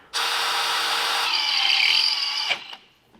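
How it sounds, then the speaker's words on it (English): A power drill bores a hole in a steel angle, a loud sustained high whine running for about two and a half seconds before cutting off with a brief rattle. "Right now I'm just drilling the holes that the angle will bolt to the flat plate"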